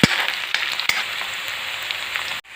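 Onions frying in a pot with cinnamon and cloves, browned until dark red, an even close crackling sizzle with a few sharper pops before it cuts off abruptly.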